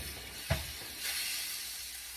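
Roast meat searing in a smoking hot pan with its fat sizzling, a steady close hiss broken by a brief thump of contact just before it swells.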